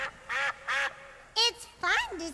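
Voices imitate a duck quacking, giving a handful of loud, nasal quacks in a bouncy rhythm, close and alone, in a children's show setting.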